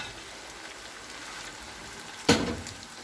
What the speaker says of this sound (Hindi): अब इसके अंदर बॉयल किया हुआ मटन डालेंगे।